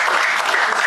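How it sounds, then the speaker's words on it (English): Brief, dense round of applause from an audience at a presentation on new Nigerian labour force statistics, steady clapping filling under a second. "Please, can you give a wonderful round of applause?"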